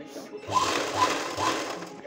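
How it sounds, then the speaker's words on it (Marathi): A sewing machine stitches the lining of a blouse's back neck in short, close bursts of fast mechanical whirring, while someone speaks over the stitching. "बघा अस्तरचा कपडा दिसणार नाही, असं प्रेस करत छान शिलाई मारून घ्यायची आपल्याला"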